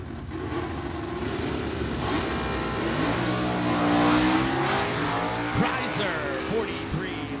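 Drag racing launch at an NHRA event with a 1967 Ford Mustang and a 1996 Chevy Beretta: loud, continuous engine roar rising in pitch as the cars accelerate, with brief tire noise and crowd or announcer voices underneath.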